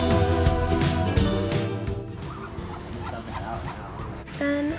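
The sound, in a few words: Muscovy ducks at feeding time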